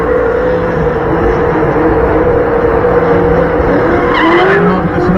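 A C10 truck drifts around a race track at the C10 Nationals in Texas, its tires squealing in a loud, continuous screech over the roar of the engine, close to the listener.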